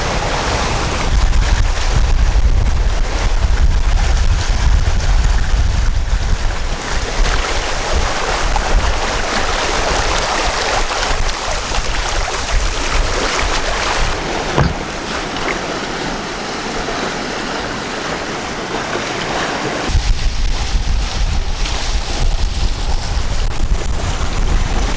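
A sailboat running in rising wind at sea, with steady broadband wind roar buffeting the microphone and the rush of waves and water along the hull, loud and continuous throughout.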